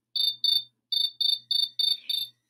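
A cricket chirps in a storytelling sound effect, seven short bright trills in an uneven rhythm with brief gaps between them, clear and close against silence.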